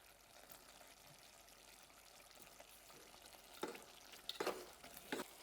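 Mutton and its juices stirred in a hot pan with a spoon, a low sizzle under scraping stirs that grow louder near the end, with several sharper clanks and no talking.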